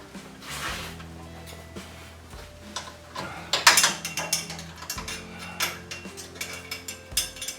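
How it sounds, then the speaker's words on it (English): A socket wrench ratchets in short clicking bursts as it tightens a bolt on a 1947 Ford hot rod, with close, rapid pawl clicks repeating over a low hum and no talk. "If I give you a socket, can you tighten it down if I go underneath"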